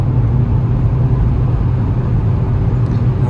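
A car rolling slowly along a road at night in poor visibility, a close, steady low engine and road rumble that holds even throughout without speech.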